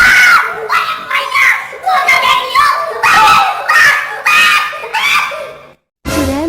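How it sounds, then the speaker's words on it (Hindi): A cartoon boy screams in a series of loud, strained, high-pitched yells, near and in bursts, then falls silent for a moment before one last cry. "लालू चिल्लाने लगता है।"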